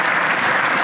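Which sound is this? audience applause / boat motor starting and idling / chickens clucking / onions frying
audience applause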